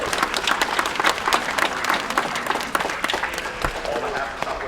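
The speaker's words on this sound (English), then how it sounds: "If we can please take this opportunity to give him a big round of applause." Southwest Airlines passengers applaud inside the plane cabin, a loud, dense round of clapping from many hands, with a few voices and cheers mixed into the steady patter.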